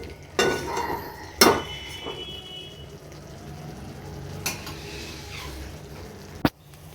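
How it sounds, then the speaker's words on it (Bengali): A utensil stirs chickpea curry masala in a pan until the oil separates, giving a few scattered clinks and scrapes over a quiet, low background hum. "এভাবে যতক্ষণ না তেল বেরোচ্ছে ততক্ষণ নেড়ে যাবো"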